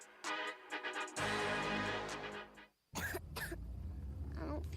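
Coughing from a child in a kids' cold medicine commercial: a burst of harsh, throaty coughs up close, a brief pause, then more coughing with throat clearing, loud and unaccompanied by speech.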